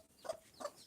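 Two short clucks from backyard chickens, spaced about a third of a second apart, close and fairly loud against a quiet background.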